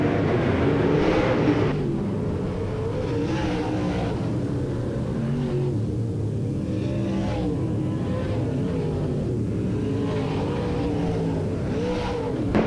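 Race cars roar around the oval at Willard Speedway during a weekly division race in lap traffic, a continuous loud engine drone with rising and fading passes, no voices.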